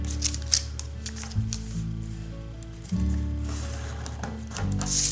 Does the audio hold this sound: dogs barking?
no